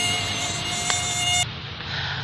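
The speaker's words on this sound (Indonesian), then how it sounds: "Sorry guys, banyak nyamuk di kebun." Mosquitoes in a garden give a steady, close, high-pitched whine that holds loud and unbroken, then drops suddenly to a fainter hum.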